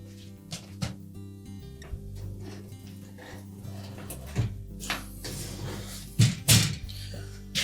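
A Whirlpool range oven door is slid onto its hinges, producing several metallic clunks and thunks with a scraping slide, close by, with some brief talk in between.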